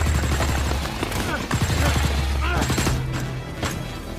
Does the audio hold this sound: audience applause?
no